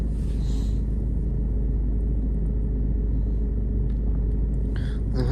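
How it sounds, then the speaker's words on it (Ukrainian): A Ford Focus Titanium engine idles steadily while warming up, with a deep, constant rumble up close, a faint voice briefly audible at the end. "зараз вони чуть-чуть бігають, тому що у нас автомобіль ще прогрівається"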